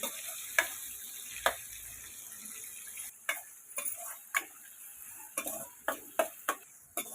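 Tomatoes softening in a pan for a bottle gourd curry, a faint hiss of cooking under a series of distinct spatula taps and scrapes against the pan, irregular and close.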